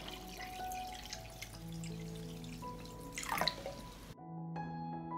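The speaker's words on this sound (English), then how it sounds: "I pour water into the pot up to the height of the lid." Water runs steadily into a cooking pot holding glass jars for pasteurizing, a continuous trickling and splashing close by that swells briefly, then stops and leaves faint drips.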